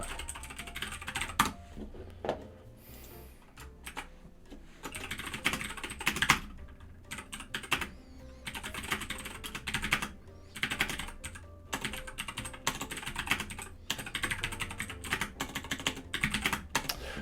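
Rapid, continuous typing on a computer keyboard during a web development coding session, with dense bursts of key clicks and brief pauses, close and fairly loud with no talking.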